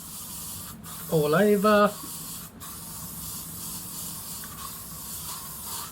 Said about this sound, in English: So just give it a spray